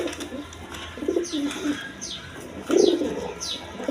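Pigeons on a farm, a breeding pair sitting on two eggs, a crested male and an uncrested female, coo in repeated soft, throaty phrases close by, with a few light chirps mixed in.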